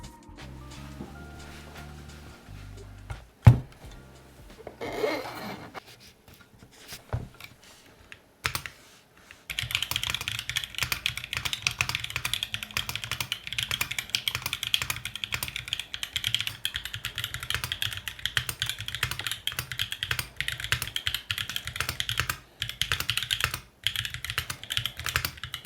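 Typing on a custom-built Mode 65 mechanical keyboard with an all-white case, a steady stream of close, crisp keystroke clacks after some brief handling noise at the start.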